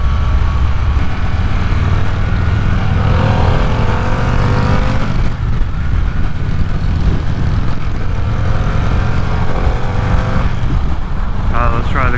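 Harley-Davidson Pan America CVO with its stock exhaust cruising on the road, a subdued steady engine drone under heavy wind rush, with a rider talking over it for much of the ride.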